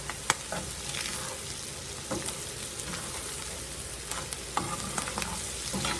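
Onions fry in a pan for BBQ bean cups, a continuous close sizzle with occasional clicks and scrapes from stirring, and no speech.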